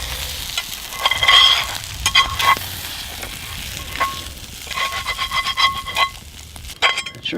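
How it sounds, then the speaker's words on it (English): Bread toasting in a pan over a campfire gives a soft, steady sizzle with faint stirring and scraping, close by and fairly quiet, swelling and fading across the clip. "Have to see about toasting up some bread here in the pan"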